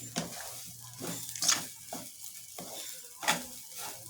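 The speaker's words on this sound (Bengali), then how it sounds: "পোলাওর চালটা সুন্দর করে ভেজে নিতেছি।" Polao rice stirred and fried in a pan, with a spoon scraping the grains in a few uneven strokes over a light sizzle, close and fairly quiet, no talking.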